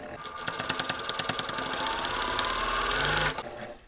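A sewing machine runs steadily, stitching a quarter-inch seam on a diamond four-patch quilt block, with a rapid even needle chatter that holds close and loud before stopping abruptly near the end.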